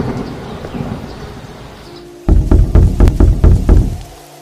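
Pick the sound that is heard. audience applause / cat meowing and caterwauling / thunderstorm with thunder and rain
thunderstorm with thunder and rain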